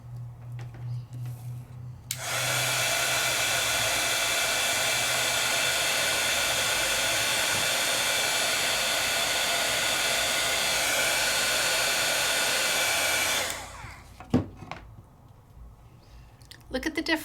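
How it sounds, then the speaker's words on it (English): A heat tool sets embossing powder on a papercraft project with a loud, steady blowing whir that starts abruptly, runs for about eleven seconds and cuts off, with faint handling noises before and after. "And just quickly heat set."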